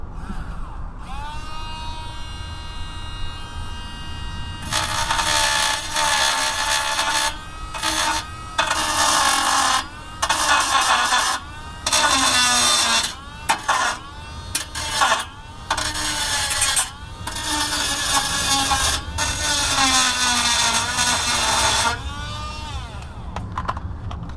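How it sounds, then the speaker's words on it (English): A Dremel rotary tool grinds down flattened bolt heads on a first-generation Mazda3 exhaust. A high whining motor rises and drops as the tool cuts in short, repeated bursts, close and loud. "So what I have to do is take a Dremel"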